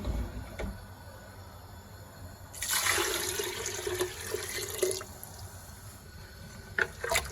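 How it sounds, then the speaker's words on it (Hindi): Four cups of water poured into a pot of hareesa with garlic, coriander, chopped chillies and mint, a broad splashing gush lasting about two and a half seconds amid quieter kitchen clatter. "इसमें डालेंगे हम 4 कप पानी"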